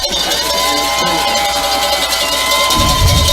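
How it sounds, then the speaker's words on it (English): Stadium crowd at a high school state regional championship football game cheers and shouts loudly, a dense continuous roar with whoops and noisemakers, rising further near the end. "And now this crowd comes alive."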